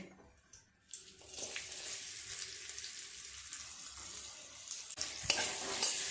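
Chopped onions sizzle steadily in oil in a pan while biryani is being cooked, a continuous moderate frying hiss with a brief louder clatter near the end.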